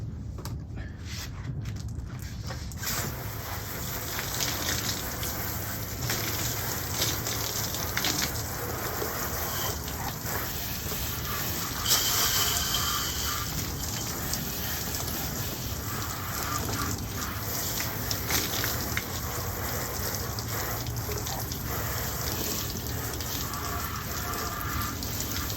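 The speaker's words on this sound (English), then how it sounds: "we're gonna shoot a little more water." Water sprayed steadily onto a copper Weber Performer 22-inch grill during cleaning, a continuous close hiss and gush running unbroken throughout with slight surges.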